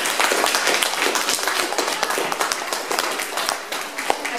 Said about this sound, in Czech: zatleskejte